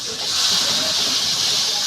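A ginger and green chilli paste sizzles in hot oil as it is fried for a fish curry, a loud, steady, close hiss that holds evenly throughout.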